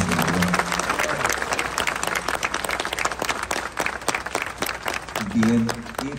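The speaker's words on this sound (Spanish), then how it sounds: "Fuerte aplauso, hermanos." A crowd claps loudly and steadily at a traditional church festival for the Señor Santo Entierro in Alaquines, with a voice speaking over the applause at the start and again near the end.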